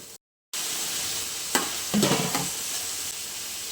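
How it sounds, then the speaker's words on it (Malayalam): Chopped vegetables stir-fry in hot ghee for vegetable biryani. After a brief dropout at the start, a close, steady sizzle continues with a few scraping stir strokes, and no one speaks. "ഇതിലേക്ക് നമ്മൾ മുറിച്ച് വെച്ചിരിക്കുന്ന വെജിറ്റബിൾ ചേർത്ത് കൊടുക്കാം"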